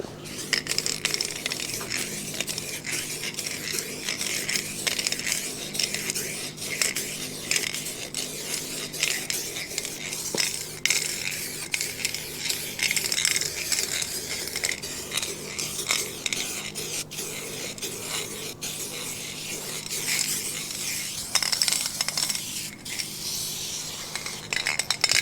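A rattle can of primer sprays a GMC OBS 3500 truck door in a long continuous hiss, broken by short sputters and pauses as the nearly empty can runs out.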